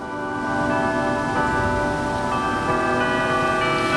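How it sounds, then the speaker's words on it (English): Church bells ring continuously with sustained, overlapping tones, steady and fairly loud throughout. "You're hearing the bells, that's exactly right."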